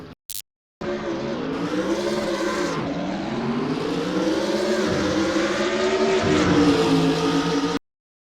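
A race car circles the Laguna Seca circuit in California, its engine a continuous loud drone that rises and falls through gear changes and corners for about seven seconds after a short clipped burst, then cuts off abruptly.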